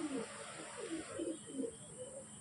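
A female Kerala breed pigeon coos in a loft, a series of low throaty rolling notes in quick succession, close and moderately loud against a faint background hiss.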